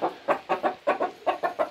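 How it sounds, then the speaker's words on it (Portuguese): A rooster kept in a pen clucks in a steady run of about eight short rhythmic calls, close and clear, with no other sound. "Esse galo que eu vou colocar ali dentro tá próximo de se apresentar."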